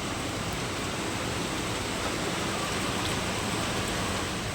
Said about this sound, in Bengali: বেশ বড় বড় বৃষ্টির ফোঁটা পড়ছেই দেখো